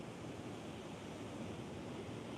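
Ocean waves wash steadily onto the shore in a constant broadband roar, with soft wind noise over the microphone and no distinct breaks between surges.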